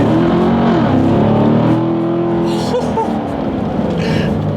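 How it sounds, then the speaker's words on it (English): A 2017 Chevrolet Corvette Grand Sport accelerates hard, its loud V8 engine note climbing steadily in pitch through the gears, heard up close from inside the car with no talk. "let me do a quick little acceleration"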